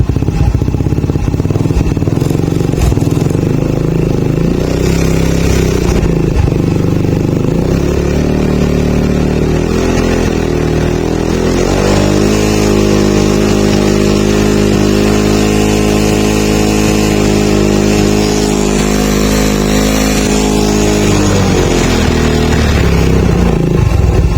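A Suzuki Smash motorcycle engine with a new full-wave electrical setup runs loud and close throughout, idling steadily with a clattering tone and rising into a sustained rev through the middle before settling back.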